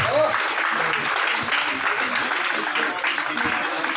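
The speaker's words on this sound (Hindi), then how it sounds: "शानदार तालियां बजें।" Audience applause at a sports closing ceremony where winners receive medals: a steady, dense wash of many hands clapping that holds for the whole stretch, with a voice talking over it.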